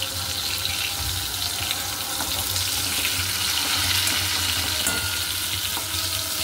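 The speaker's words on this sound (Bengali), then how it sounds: "উল্টে দিয়ে ভাজা করে নিই।" Pointed gourd (potol) frying in oil in a wok, a steady close hiss and crackle of sizzling that carries on without pause, with no talking.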